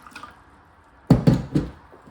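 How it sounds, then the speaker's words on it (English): Water poured into a container holding wilted vegetables: three quick splashing gushes close by, the pour starting and stopping in uneven bursts against a quiet room. "Let's pour some water in here."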